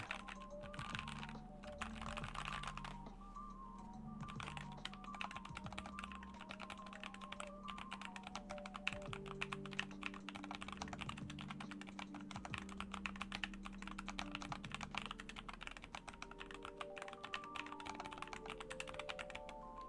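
Steady, close typing on a LeleLab Maxum65 mechanical keyboard laid flat, a dense run of crisp clacks and thocky taps with short lulls near the start, no speech.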